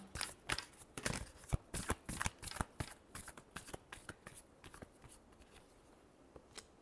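Tarot cards are shuffled by hand during a weekly reading, giving a fast run of crisp riffling flicks and papery snaps that come in quick bursts, close and moderately loud, with no voices.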